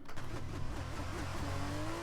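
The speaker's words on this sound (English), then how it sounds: "A little bit of a rev glitch, but no big deal." Race car engine in an F1-style racing video game at Silverstone, revving steadily with a brief rev glitch, a continuous loud drone with a rising tone near the end.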